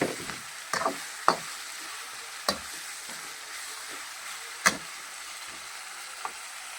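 Upma frying in a pan with a steady soft sizzle, broken by a few sharp scraping clinks of a spoon as it is stirred, close and alone.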